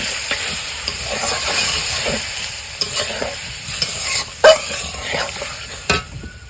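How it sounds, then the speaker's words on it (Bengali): Coconut milk goes into a pan of spiced egg curry, which sizzles and bubbles steadily while a utensil stirs and scrapes. A few sharper knocks stand out against the continuous frying hiss. "এখন এই নারকেলের দুধটা এখন আমি দিয়ে দেবো।"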